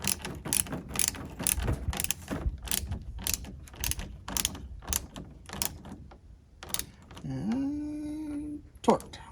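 A torque wrench ratchets in a quick, even run of clicks while tightening chainsaw parts, close and moderately loud, ending in a short squeaky mechanical scrape.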